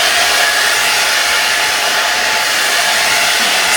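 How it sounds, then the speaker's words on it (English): A blow dryer runs steadily and loudly at close range as paint is pushed around for a planet painting, a continuous broadband whoosh with no pauses and no talking. "once again, we're gonna take the blow dryer"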